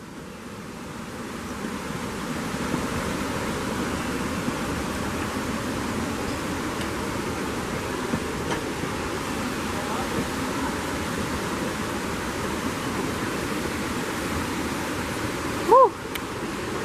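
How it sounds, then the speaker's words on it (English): A waterfall along a nature trail roars as a steady, even wash of rushing water throughout, close and constant with no breaks, one brief tap near the end. "Waterfall!"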